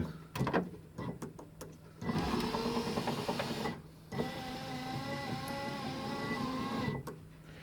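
An electric power window motor in a Ford Fairmont XC GXL whirs in two sustained runs with a short break between them, preceded by a few switch clicks, close and moderately loud.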